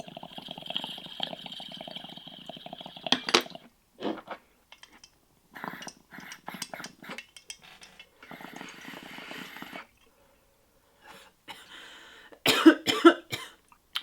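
Harsh coughing after a rosin dab comes in bursts, a cluster early on and a stronger fit near the end, with quiet gaps and small handling noises between.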